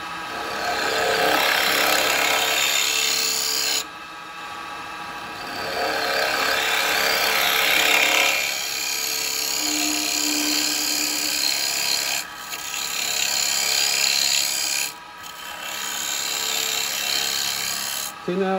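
Wood bowl turning on a lathe with a carbide chisel, a steady rasping scrape of the cutter on spinning wood that runs nearly continuously with brief pauses between passes.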